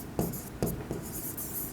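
A pen scratches across paper as shop rent is written down, producing a few quick, close strokes in short bursts, soft and unaccompanied by speech.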